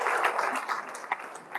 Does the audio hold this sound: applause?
yes